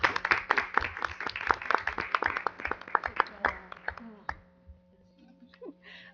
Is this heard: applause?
yes